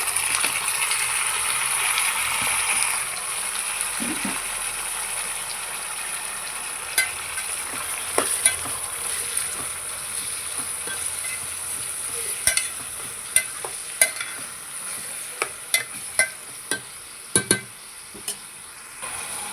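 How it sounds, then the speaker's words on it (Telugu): Chopped tomatoes and onions fry and get stirred in a pan with turmeric, a steady close sizzle under a run of sharp scraping clicks from the spoon against the pan, growing denser toward the end. "ఇప్పుడు అందులోకి మనం ముందుగానే కోసి పెట్టుకున్న టమాటాలు, ఉల్లిపాయలు వేసేసుకుందాము."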